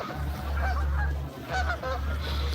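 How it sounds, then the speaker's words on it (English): A flock of geese honks loudly nearby, with several overlapping calls in clusters over a steady low background hum. "The geese are being especially annoying today."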